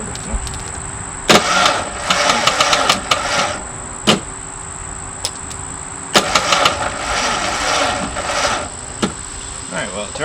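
A Ford Ranger truck engine cranks over repeatedly in bursts, a starter grinding without catching, with a steady high-pitched whine and clanking in between.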